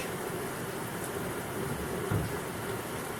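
Steady rain falls outdoors on a wet day, a continuous broadband hiss with soft patter, even and unbroken throughout with no voices.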